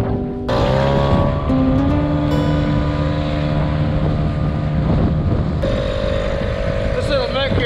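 A small Mercury 3.3 horsepower outboard motor drives a boat at speed, a loud steady droning engine hum with wind buffeting the microphone throughout and a rise in pitch near the end.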